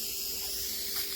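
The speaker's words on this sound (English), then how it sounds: "spray paint sprays everything." A can of spray paint releases a short, quiet, steady hiss as paint is sprayed onto plastic frames, with no other sound.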